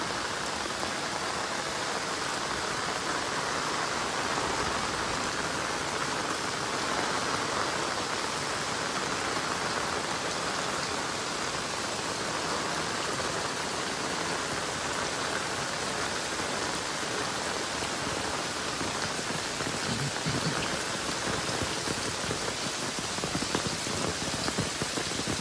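Heavy monsoon rain pours steadily in Konkan, Maharashtra, a dense, continuous hiss of water on surfaces that stays loud and unbroken throughout, with no voices.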